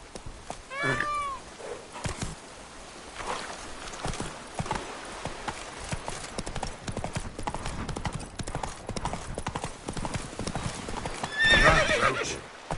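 Roach the horse from The Witcher 3 gallops with steady, close clip-clop hoofbeats and gives loud whinnies near the start and again near the end, all over background game sound.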